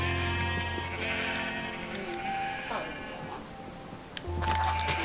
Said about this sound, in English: I guess this is gonna be all our sheep for now